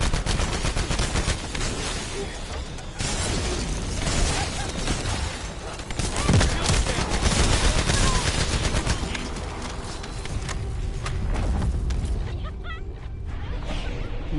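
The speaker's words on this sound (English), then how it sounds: "That's what happens when you got a whole bunch of motherfuckers shooting at it." Sustained rapid gunfire in The First Descendant rattles at a storage box, loud bursts of machine-gun fire with whooshes and mechanical clatter layered throughout.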